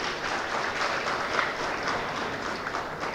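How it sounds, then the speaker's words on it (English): An audience at a school youth parliament competition applauds the chief guest with steady, dense clapping that holds at an even loudness throughout, with no talking over it. "A round of applause for the guest."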